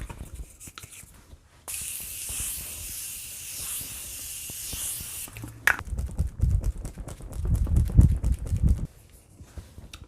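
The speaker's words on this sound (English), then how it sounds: "now it's time to set this in with my Morphe setting spray" A Morphe makeup setting spray hisses steadily, spritzing for a few seconds close by, followed by soft handling noises and rustling.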